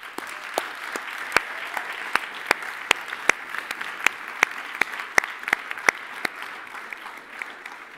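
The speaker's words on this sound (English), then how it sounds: "Give them a huge round of applause." A meeting audience claps for a newly elected board. The clapping is fairly sparse and evenly spaced, with distinct crisp claps rather than a dense roar, and runs steadily for several seconds.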